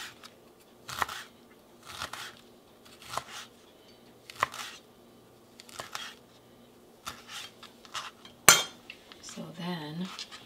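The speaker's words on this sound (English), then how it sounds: "I'm just going to take my knife and I'm just going to cut it into confetti, basically" A knife chops rolled basil leaves into thin ribbons on a board, with evenly spaced crisp cuts about once a second, then a sharper clack and a brief rustle near the end.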